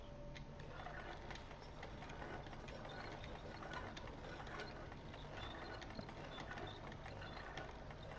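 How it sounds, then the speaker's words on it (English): Meat grinder mechanism in the video game Little Nightmares churns with a steady, dense ratcheting clatter of gears and clicks, continuous and fairly faint, with a low hum beneath. "Ooh, meat grinder. Time to make some sausage."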